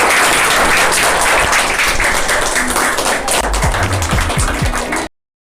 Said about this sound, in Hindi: मॉर्निंग मनोज गंगवार, एक बार जोरदार तालियां इनके।